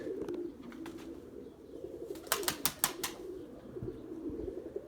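Erzurum white pigeons coo in a low, steady drone close by, broken midway by a quick cluster of sharp wing claps as birds take off.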